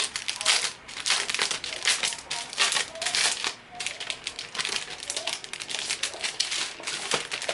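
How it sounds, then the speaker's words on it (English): Crinkly plastic rustling and crackling up close in irregular bursts, as a sealed plastic bag holding craft vinyl sheets is pulled open and handled. "So it comes sealed in this plastic bag. So we're just gonna open it."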